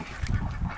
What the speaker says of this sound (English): Holly, these ducks are disgusting.